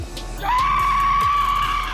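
A long, high, sustained scream on a roller coaster at an amusement park rises suddenly and holds steady, loud and close, with riders' shrieks over the rumble of the ride.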